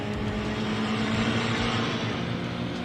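A Dacia Sandero RS engine drones steadily and loudly in the Assetto Corsa racing game, a continuous buzzy revving tone with no pauses or speech.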